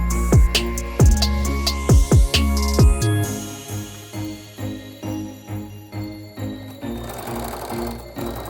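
A sewing machine stitches down glued binding on a quilt-as-you-go placemat, opening with quick loud mechanical bursts before settling into a steady, rhythmic whir of repeated stitches up close.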